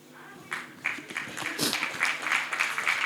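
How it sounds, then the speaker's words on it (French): Audience applause at the ASCOM 2024 ceremony, clapping building from faint to fuller over a few seconds, with crowd murmur and voices mixed in. "brillante fille d'Afrique qui mérite vos applaudissements nourris"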